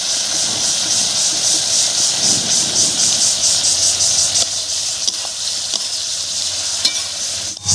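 Chopped bottle gourd sizzles and hisses loudly in a pan as ground spice paste goes in, with a steady frying crackle and occasional stirring scrapes, easing slightly toward the end.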